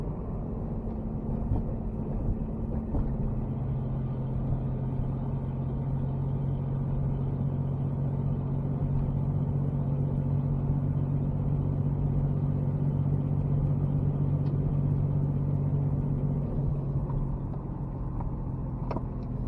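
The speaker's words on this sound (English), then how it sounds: "today we'll see how the little 719cc engine performs without a turbo or a supercharger" A Honda Insight fitted with a non-turbo 719cc Kubota diesel engine drives at steady speed, giving a continuous low droning hum with road rumble that stays even throughout.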